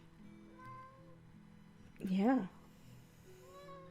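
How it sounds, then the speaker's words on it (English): A house cat gives one clear, loud meow close to the microphone, rising then falling, while a person talks quietly in a voiceover beneath and around it. "I hope you guys enjoy hearing from my cat the entire time"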